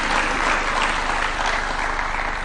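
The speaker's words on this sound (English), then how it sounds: "Another clap for him" An audience at a University of Nairobi innovation launch attended by President Ruto claps for a speaker, a brief, dense burst of applause that stays steady and fairly loud over about two and a half seconds, with a low hum underneath.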